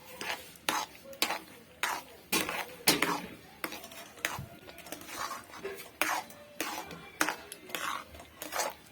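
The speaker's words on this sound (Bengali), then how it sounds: "চিনিটা দিয়ে ভালোভাবে এটিকে নাড়াচাড়া করে নেবো" A spoon stirs tomato sauce with sugar in a cooking pot, making a run of sharp scraping clinks and knocks against the metal at an uneven, busy rhythm, close by with no talking.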